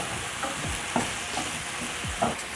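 Green pepper and tomatoes sizzling steadily in a pan while a utensil stirs them, with several soft scraping sweeps and light clicks over the constant frying hiss.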